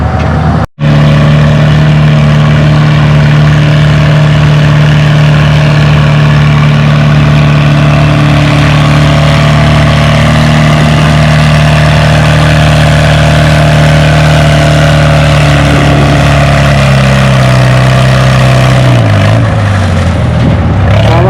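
A Case SC tractor competing at the Othello Spring Nationals tractor pull runs its engine loud and close, holding a steady, heavy drone that climbs in pitch as it revs near the end.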